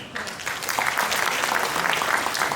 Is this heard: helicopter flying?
no